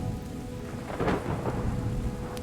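Rain and rolling thunder in the wasteland restoration game Terra Nil, a steady wash of rainfall with a deeper thunder swell rising around the middle, moderately loud and with no voices.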